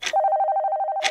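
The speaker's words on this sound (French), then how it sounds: "J'ai Jérôme au téléphone" A telephone rings with one continuous, loud electronic trill, a rapid buzzing ring that starts abruptly and stops after about a second, bracketed by short bursts of noise.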